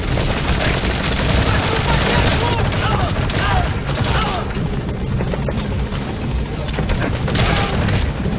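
Gunfire in the video game Metal Gear Solid V, dense and loud bursts of shots mixed with crashes and impacts, continuing through the stretch with some chatter underneath.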